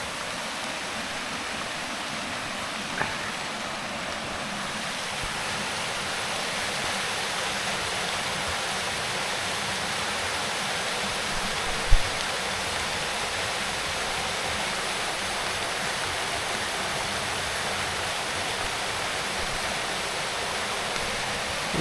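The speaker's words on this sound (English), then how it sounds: "Nice waterfall there." A waterfall in the hills near Loch Doon, Scotland, gives a constant broadband rush of falling water, steady and fairly close, with no voices and only a couple of faint knocks.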